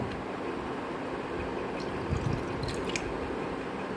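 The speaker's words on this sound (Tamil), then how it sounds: "இப்போ தண்ணி வந்து நல்லா பாயில் ஆக ஆரம்பிச்சிச்சு." Water in a pan for sugar syrup starting to boil, a faint, soft bubbling with a few small pops and drips over a quiet steady hiss, heard alone at close range.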